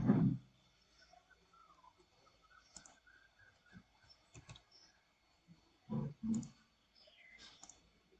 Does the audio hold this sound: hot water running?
no